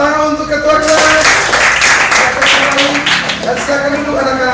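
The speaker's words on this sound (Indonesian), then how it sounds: "Tepuk tangan untuk Ketua kelas." Schoolchildren in an Indonesian classroom break into loud, sustained clapping that fills the room, with voices and a sung or chanted tone running through the applause.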